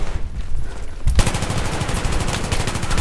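Rapid automatic gunfire in a Battlefield 3 multiplayer match erupts after a second of background rumble, then continues as a loud, steady stream of closely spaced shots.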